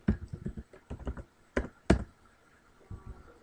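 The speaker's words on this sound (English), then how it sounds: "we may not even need to type out the entire word." Quick keystrokes typing a search word on a computer keyboard, a burst of close, light clicks with short pauses and a couple of sharper taps near the end.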